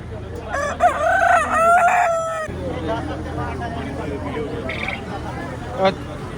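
Two heavy roosters crow in close succession near the start, loud and clear, followed by a busy farmyard murmur with distant clucking and another brief call near the end, at the Kisan Mela in Ludhiana.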